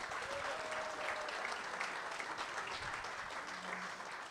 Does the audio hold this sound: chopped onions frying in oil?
no